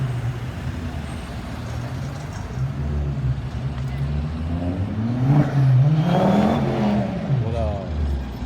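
A supercar accelerates away on a Paris street, its engine note climbing and swelling in pitch to a peak before fading, over a steady background of traffic noise.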